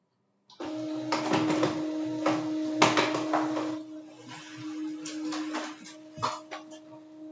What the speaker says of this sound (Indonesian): Nah, ini kita print dengan mengeklik print.